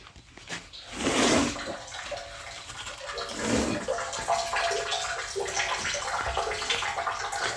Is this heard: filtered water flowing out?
yes